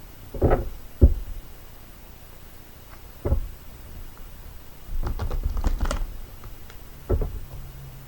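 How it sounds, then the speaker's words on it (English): Archangel Power Tarot cards being shuffled by hand, heard as a few separate close riffling and tapping bursts with quiet gaps between them and no talk. "This is the Archangel Power Tarot that I'm shuffling."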